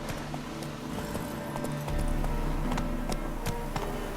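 Roach, Geralt's horse in The Witcher 3, trotting with steady clip-clop hoofbeats, moderately close against a quiet outdoor background, growing slightly louder midway.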